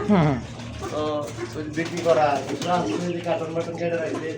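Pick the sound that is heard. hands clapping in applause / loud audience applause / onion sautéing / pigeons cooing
pigeons cooing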